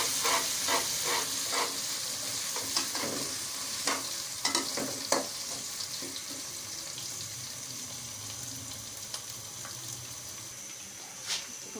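Ginger and onion fry lightly in a pan for aloo gobi. A soft, even sizzle continues throughout, with a burst of quick spatula taps and scrapes early on, then a calmer hiss, and no talking.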